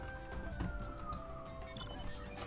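Ambulance siren outside a window, a faint wailing tone sliding slowly downward in the distance, muffled under low room noise.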